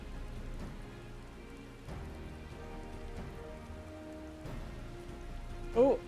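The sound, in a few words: rain falling in Final Fantasy XIV Dawntrail, video game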